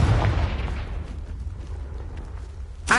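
A Confringo spell blast in Hogwarts Legacy bursts loudly at the start and rumbles into a decaying low roar, with a sharp second burst near the end.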